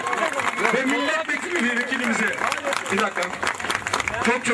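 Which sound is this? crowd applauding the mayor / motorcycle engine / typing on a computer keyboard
crowd applauding the mayor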